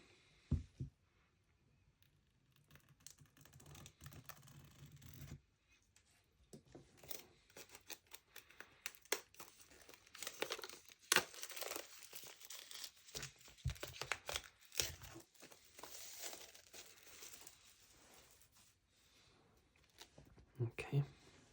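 Collector's edition Blu-ray and 4K box set being unpacked, with crinkling plastic, tearing wrap and sharp clicks of cardboard arriving in irregular bursts close to the microphone, between quiet pauses.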